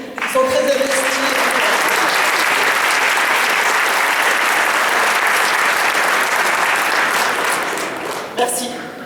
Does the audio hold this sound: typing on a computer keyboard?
no